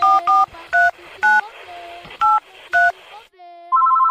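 Telephone keypad DTMF tones in a Brazilian funk track, six short evenly paced beeps followed by a longer sustained tone, loud and clean over a low backing hum.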